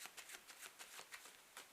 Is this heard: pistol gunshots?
no